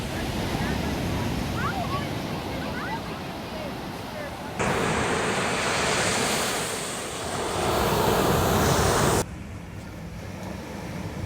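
Strong incoming tide surging against the rocky shore at Thunder Hole in Acadia, a broad continuous roar of wind-blown surf with two louder swells, heavy wind buffeting the microphone, and voices talking underneath.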